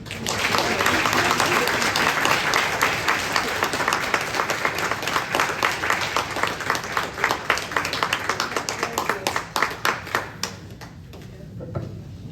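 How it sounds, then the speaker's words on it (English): A caregiver conference audience at a senior center applauds after a humor talk: sustained crowd clapping that grows more distinct and individual near the end, with voices briefly audible over it. "Another round of applause."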